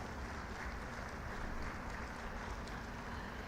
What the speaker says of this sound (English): a very big round of applause for these three all university toppers